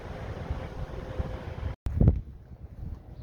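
Steady low rumbling wind at an RV park in Mexico buffets the microphone, broken by a brief dropout and a short louder gust before settling into quieter blustering.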